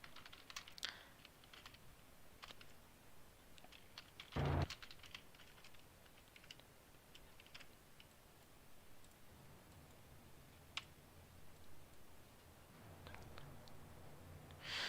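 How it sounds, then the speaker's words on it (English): Faint computer keyboard typing in a quiet room, scattered soft clicks with one louder burst of keystrokes partway through and no voices. "Stop typing!"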